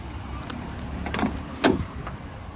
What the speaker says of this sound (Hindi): बोनट खोल देता हूँ।